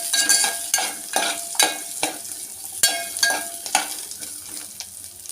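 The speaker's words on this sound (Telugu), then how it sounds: "వీటన్నిటిని ఒకసారి ఇలా తిప్పుకుందాం." Chutney ingredients (peanuts, green chillies and raw coconut pieces) are stirred as they fry in a pan, giving a steady sizzle broken by repeated scraping strokes at an even rhythm, close and fairly loud, with no talking.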